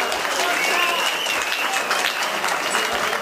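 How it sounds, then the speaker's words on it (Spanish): At an afternoon community event, an audience breaks into loud, continuous applause, with dense clapping filling the whole stretch at an even level and some voices mixed in. "¡Fuerte el aplauso!"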